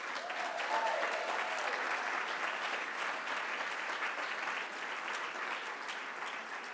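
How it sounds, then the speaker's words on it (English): Gala guests at a Cobb Democrats event give a long, even round of applause for award winners, dense crowd clapping that holds steady at moderate distance without any speech. "Ladies and gentlemen, please a round of applause for all of our award winners."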